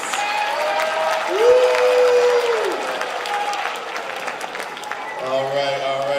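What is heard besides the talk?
school audience applauding panelists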